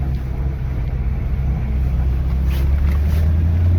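A 1950 Ford F-1 truck pulling away in first gear, a loud low engine drone close to the microphone with steady rumble and some wind buffeting, no talk.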